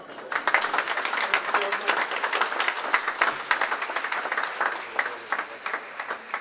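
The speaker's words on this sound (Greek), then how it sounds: "Αυτή την κρυφή δύναμη παρακαλώ να χειροκροτήσετε χωριστά." Applause in a parliament session: a sustained burst of many hands clapping from the seated audience, steady and fairly close, tapering slightly toward the end.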